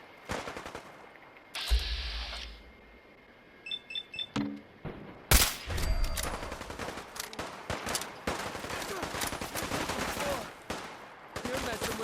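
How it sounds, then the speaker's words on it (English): Game gunfire from Fallout 4, with sporadic shots and bursts erupting after a quieter start and then continuing as rapid, loud firing mixed with electronic beeps. "Who's firing?"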